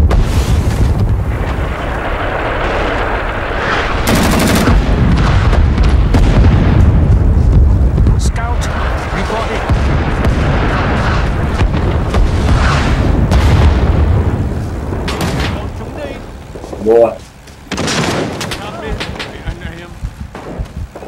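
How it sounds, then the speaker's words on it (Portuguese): Artillery shells landing and gunfire in a Rising Storm 2 battle, with long rolling booms and rumbling blasts under continuous battlefield noise. Someone talks over it at times. "sai de onde tá caindo a artilharia"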